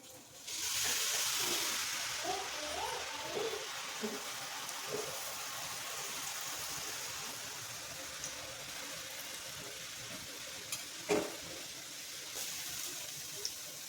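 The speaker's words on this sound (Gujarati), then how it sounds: "તો હવે આપણે અહીંયા ખીરું ને આપણે અહીંયા જારો રાખીને બુંદી પાડી લઈશું" Boondi batter for motichoor laddoo dropped through a slotted ladle into hot oil, a steady bubbling sizzle of frying across the whole stretch, with occasional louder pops and no talking.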